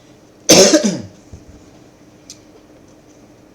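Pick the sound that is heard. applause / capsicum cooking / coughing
coughing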